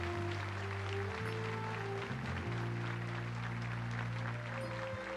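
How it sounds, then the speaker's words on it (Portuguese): Congregation applauding in a church, steady dense clapping throughout, heard over a low sustained organ or keyboard chord. "Você pode aplaudir o Senhor pela decisão desses irmãos?"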